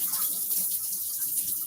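Tap water runs steadily into a sink, a continuous close hissing splash with no talking.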